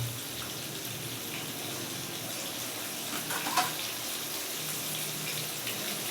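Eggs frying in a pan give a steady, even hiss like running water, continuous and close, with a brief louder crackle partway through and no speech.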